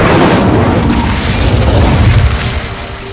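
A fire spell bursts in Hogwarts Legacy: a loud, heavy whooshing boom with deep rumble that holds for about two and a half seconds, then eases off slightly at the end.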